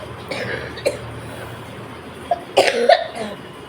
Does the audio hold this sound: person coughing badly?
yes